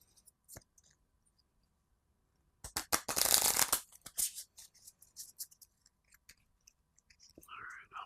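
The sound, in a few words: shuffling cards for Fateforge board game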